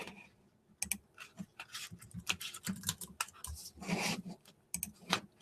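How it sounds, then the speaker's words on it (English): Typing on a computer keyboard during a live stream, quick irregular bursts of key clicks close to the microphone, alone with no talking. "I'll type it in the chat."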